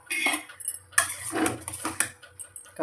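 Metal clinks and scrapes as the lid comes off a cooking pot of aviyal vegetables, a few sharp clanks among softer rattling, close and fairly loud with no talk.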